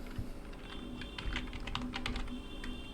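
Keyboard shortcut keys pressed on a computer keyboard while working in Excel, a steady run of close clicking keystrokes with a faint background hum.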